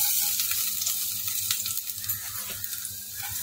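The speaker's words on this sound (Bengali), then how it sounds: "এবার আমি এই তেলের মধ্যে দিয়ে দেবো সামান্য একটু আদা কুচি আর একটু রসুন কুচি।" Chopped ginger and garlic dropped into hot oil alongside dried red chilli: a continuous bright sizzle and crackle, close and fairly loud, with faint stirring scrapes, no voices.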